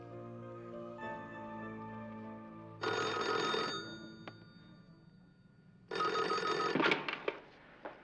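A telephone bell rings in two loud, distinct bursts of about a second each, separated by a quiet gap, at close range with no voices.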